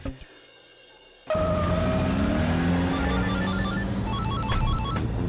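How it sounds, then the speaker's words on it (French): A telephone rings loudly and continuously with a repeating electronic ringtone pattern, starting abruptly after a short quieter stretch, with a busy background underneath. "décroche le téléphone"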